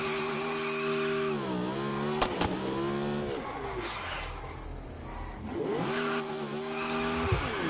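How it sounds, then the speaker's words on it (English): Cars doing burnouts in the racing video game Test Drive Unlimited Solar Crown on PS5, engine revving up and down in rising and falling sweeps with sharp squealing tire bursts, loud and close throughout. "we'll just try to do some burnouts here"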